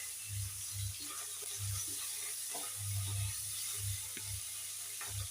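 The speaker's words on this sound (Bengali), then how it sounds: "এই যে মাছটা ভাজা হয়ে গেছে" Fish full of roe frying in a pan gives a steady sizzle, with a series of soft low thumps spread through it and no talking.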